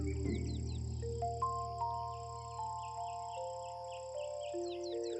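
Birds call in a Colombian jungle canopy, a sparse scatter of chirps and whistled notes over a steady droning backdrop of insects or music, fairly faint and with no talking.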